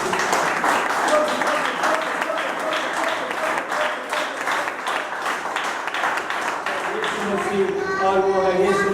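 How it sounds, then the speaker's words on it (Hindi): A church congregation at a Sunday service applauding loudly, dense continuous clapping from many hands that carries on steadily and gives way to a sung or spoken voice at the end. "मैं जोर से ताली बजा"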